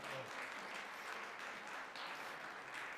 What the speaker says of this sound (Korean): 우리 박수로 환영하고요